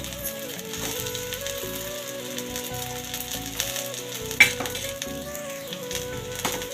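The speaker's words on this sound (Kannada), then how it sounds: "ಇಷ್ಟನ್ನು ಹಾಕಿ ಚೆನ್ನಾಗಿ ಫ್ರೈ ಮಾಡೋಣ" Whole spices, including coriander seeds, cumin, fennel, cinnamon, black pepper and bay leaf, fry in a pan for chicken sambar with a steady, close sizzle and a few stirring clicks over faint background music.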